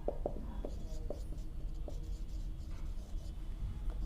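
A pen writes out a maths answer by hand on a decimal-representation problem for rational numbers: soft, close scratchy strokes come in short bursts, then settle into steady, faint scribbling.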